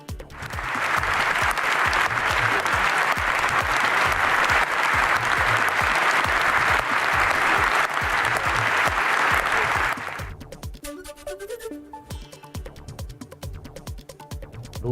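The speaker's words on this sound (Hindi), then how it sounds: "सांसदों ने खड़े होकर जेलेंस्की के लिए तालियां बजाई" British MPs in Parliament give Zelensky a standing ovation: dense, sustained applause from a large crowd holds steady and loud for about nine seconds, then cuts off abruptly.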